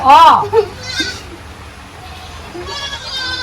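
A goat bleats loudly up close at the start, followed by a shorter bleat, then fainter animal calls amid quiet background.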